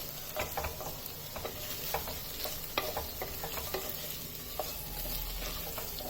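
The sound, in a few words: onions sauteing in a pan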